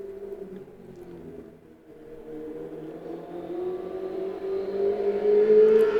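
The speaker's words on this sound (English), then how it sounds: "Excuse the motorbike." A motorbike passes outside, heard faintly through a room. Its whining engine note climbs steadily in pitch and grows louder over several seconds.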